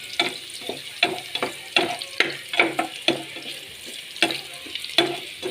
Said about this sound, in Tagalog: Haluin po ng bahagya ang bawang hanggang sa maging golden brown o caramelized.